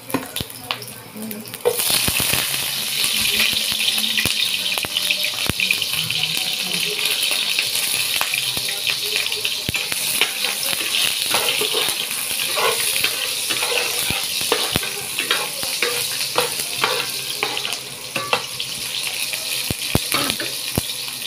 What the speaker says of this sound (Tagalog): Mantika, kailangan ko na ilagay itong bawang.